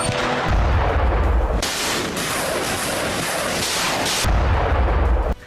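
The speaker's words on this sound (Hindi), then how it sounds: "इस खूनी रॉकेट को अजरबैजान ने दागा था। दावा है कि यह गिरा है आर्मेनिया के एक शहर पर" A rocket fired by Azerbaijan strikes an Armenian city, heard as a continuous loud roaring blast with a heavy low rumble and hissing debris noise lasting several seconds.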